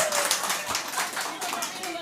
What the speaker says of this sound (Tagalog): Pwede mo magpalakpakan po yung mga kapatid natin dito bilang papuri sa Panginoon.